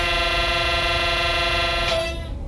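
Loud, sustained two-tone horn of an ICE BR101 Intercity-Express train in Train Sim World 2022, blaring steadily for about two seconds before cutting off.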